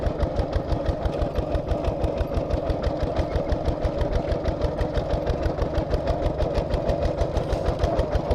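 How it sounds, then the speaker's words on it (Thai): A tractor engine chugs steadily while being driven, a loud, close, rapid rhythmic knocking pulse that runs unbroken throughout with no speech over it. "ขับรถไถอยู่พี่น้อง"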